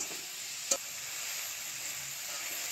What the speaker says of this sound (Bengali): দিয়ে ভালো করে কষাতে হবে। দেখো ভালো করে আমি কষিয়ে নিচ্ছি।